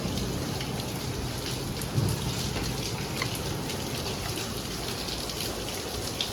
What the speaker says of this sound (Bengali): এই দেখো কি তুমুল বৃষ্টি শুরু হয়েছে